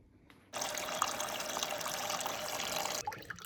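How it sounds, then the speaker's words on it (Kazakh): Water pours steadily into a cast-iron cauldron holding meat, a continuous close splashing fill that starts abruptly, runs about two and a half seconds, then stops, with no voices. "чугун қазанымызға осыдан келтіріп су құямыз"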